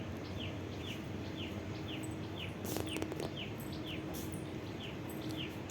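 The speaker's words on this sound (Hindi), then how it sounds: "चिड़िया इस पेड़ पर बैठी है, लगातार बोले जा रही।" A bird perched in a tree calls over and over in short, evenly spaced chirps, fairly faint against a soft outdoor background of insect hum and ambient noise.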